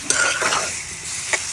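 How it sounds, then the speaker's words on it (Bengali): Kaldai fish frying in spiced masala in a village kitchen, with a steady loud sizzle and a few scraping stirs of a spatula against the pan, no voices. "কালদই মাছ কিন্তু এখন ভালো মতো কষাইতে হইবে।"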